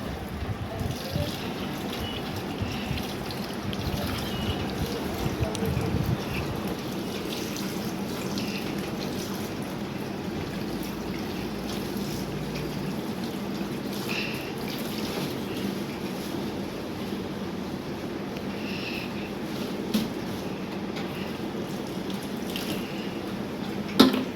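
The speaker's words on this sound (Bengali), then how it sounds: "এই যে এখন একটু মাছটা ধুয়ে নিচ্ছি" Fish being washed in water at a kitchen sink, with steady running and splashing water and occasional drips continuing throughout at moderate, close range, no talking.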